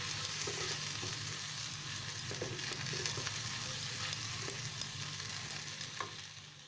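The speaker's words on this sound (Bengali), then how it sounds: "আমি পরিমাণ মতো হলুদ অ্যাড করে দিলাম, দিয়ে এবার এটাকে কষিয়ে নিচ্ছি ভালো করে।" Masala with turmeric frying in oil for a Dhaba-style masala vindi, a steady sizzle with scattered scrapes and clicks of stirring throughout, fairly close and even, with no voices.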